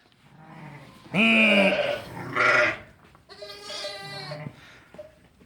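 Goats or sheep with lambs bleating on a farm during lambing season, two loud close bleats followed by a longer wavering call, with quieter animal noise around them and no talk.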